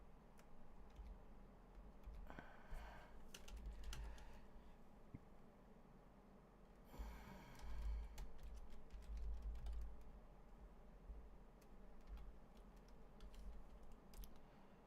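Typing on a computer keyboard while entering Python code, a steady run of soft, close clicks and taps under a low background hum, with denser bursts around the middle.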